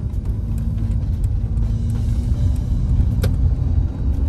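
A turbocharged limousine engine rumbles steadily from inside the car, a constant low drone with faint road noise and no talk.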